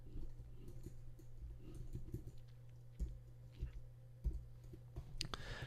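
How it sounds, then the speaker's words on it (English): Typing on a computer keyboard in a quiet room, with soft clicks in an irregular rhythm and a few sharper taps standing out above a steady low hum. "So I can come in here and type in Digital Juice Fonts"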